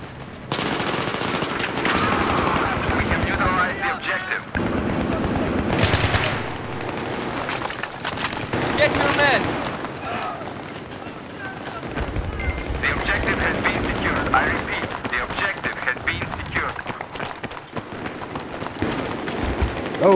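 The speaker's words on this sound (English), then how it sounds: "Oh, we're getting shot at." Gunfire in Battlefield 3 multiplayer on the Epicenter map, dense bursts of automatic fire and scattered shots continuing loudly and almost without pause, with battlefield noise and voices mixed in.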